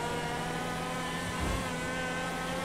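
Steady motorbike engine drone in the GTA 5 video game, a continuous buzzing hum with a slight swell midway, heard alone without talk.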